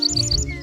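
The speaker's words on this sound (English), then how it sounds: "That's a bird singing." A small bird sings a quick run of bright, repeated high chirps, close and clear with nothing else over it.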